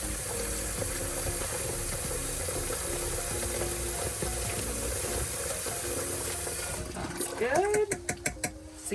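Water runs steadily from a tap into a container to mix an RV tank treatment, a continuous close splashing fill, followed near the end by a few sharp clattering knocks and clicks as the flow stops.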